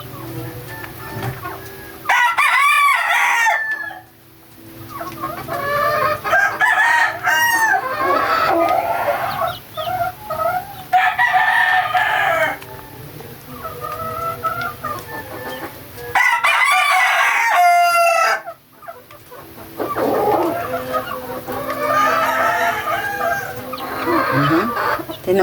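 Chickens and small chicks cluck and call in bursts while pecking at feed mixed with vitamin powder, with an occasional rooster-like crow among the repeated, fairly close calls.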